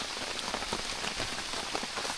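Heavy rain pours steadily at night on a bamboo hut, a dense, continuous hiss of drops drumming close on the surface with no pauses.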